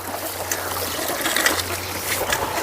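Water trickling along a leveled furrow in a vegetable garden at seedling planting, a constant close gurgling dribble with faint splashes and no talking.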